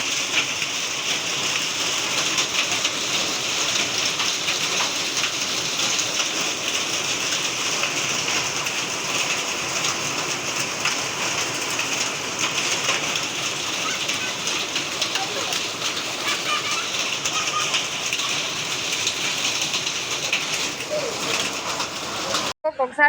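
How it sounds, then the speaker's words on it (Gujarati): Heavy rain mixed with hail pours down in a dense, continuous roar that stays loud and even throughout, with a voice faintly present beneath the downpour. "કેટલો બધો વરસાદ આ પડ્યો છે એમ અને કરા તમે જોવો"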